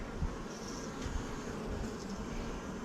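Honey bees hum softly on hive frames during a beekeeping inspection, a faint, steady buzzing drone with no speech.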